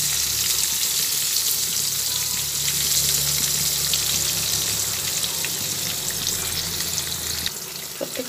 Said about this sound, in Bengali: প্রত্যেকটা পটলই ভেজে নিলাম